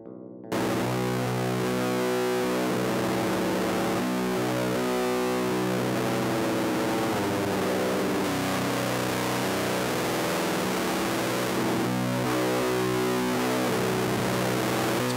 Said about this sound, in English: Speaking of guitars and extreme distortion